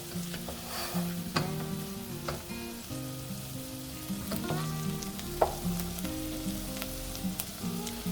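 Garlic browns in a pan for a shrimp risotto, giving a continuous close sizzle under a steady low hum, with scattered crackles and occasional spoon taps and no talking.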